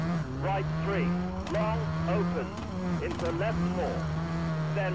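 Rally cars race in the video game WRC 3, including a Skoda WRC 2000, with engines whining and shifting pitch through gear changes and tire squeals, while someone talks over the action.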